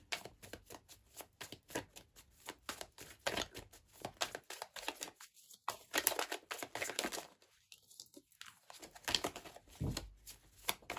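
Tarot cards being drawn and shuffled by hand, quick crisp riffles and papery flicks in bursts with short pauses, close and fairly quiet.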